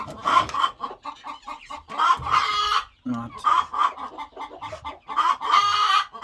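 A hen clucking among young poultry, with guinea fowl and chicks around, repeated short clucks and bird calls close by, someone briefly speaking over them.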